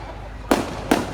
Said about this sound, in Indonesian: Kita akan menyaksikan kembang api ini akan selesai pukul 5 pagi.